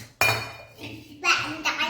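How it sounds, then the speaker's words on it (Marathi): Metal kitchen pots and pans in a village home give a sharp, close clink, followed by lighter clattering, while a voice is heard in the background. "भांड्यांचा आवाज."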